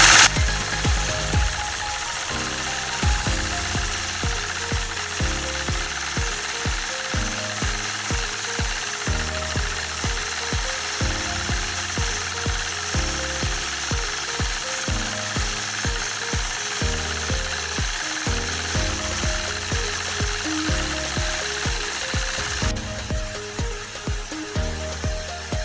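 A sewing machine stitching a pebble quilting pattern of overlapping circles with rulers, running steadily and fairly loud with a rapid mechanical rhythm that pauses briefly now and then.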